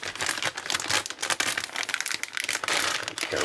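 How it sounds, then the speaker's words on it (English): A computer motherboard pulled out of its plastic anti-static bag, with continuous loud close crinkling and rustling of the plastic throughout. "Take it out of its plastic bag here."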